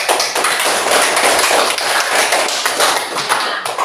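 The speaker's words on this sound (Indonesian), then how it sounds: "tepuk tangan." Children in a classroom clap together at the teacher's prompt, producing a fast, close run of sharp overlapping hand taps that continues throughout.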